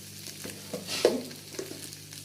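Potato and green chili sautéing in a pan for sabudana, a soft steady sizzle with a couple of light scrapes from a spatula, quiet and close, with no talking.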